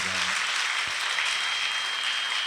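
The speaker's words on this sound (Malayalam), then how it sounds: "നല്ല ഒരു കൈയടി ദൈവത്തിന് കൊടുക്കാമോ" A church congregation at a Malayalam prayer service claps together in a dense, steady burst of applause that fills the room, with no voices over it.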